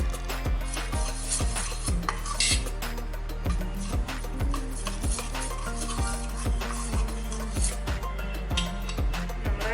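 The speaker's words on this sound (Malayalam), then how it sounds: "നന്നായിട്ട് കട്ടകളില്ലാതെ കലക്കിയെടുക്കാം" A banana and wheat flour batter being stirred in a bowl with a utensil, rhythmic close scraping and clinking strokes repeating steadily throughout, with no talk.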